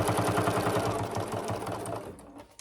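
A sewing machine stitching a handmade divided basket runs in a fast, steady mechanical clatter for about two seconds, then slows and stops, close and fairly loud with no talk.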